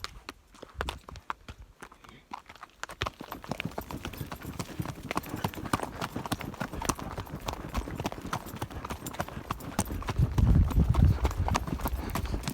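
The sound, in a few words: horse hooves trotting on outdoor trail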